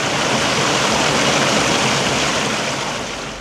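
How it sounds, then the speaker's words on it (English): A river runs through a pine forest canyon with a steady, dense rush of water that fills the whole clip, loud and close, with no other sounds standing out. "the sound of the river itself drowning out any ambient noises from the nature surrounding me"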